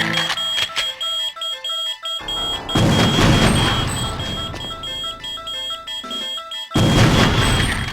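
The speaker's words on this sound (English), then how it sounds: "as soon as the alarm goes off down here, all of these laser beams activate and 2 guards with dragons show up to ambush you" Repeating electronic alarm tones in the Area 51 level of the video game Perfect Dark, loud and pulsing in stuttering bursts, with heavy booming game sounds swelling underneath.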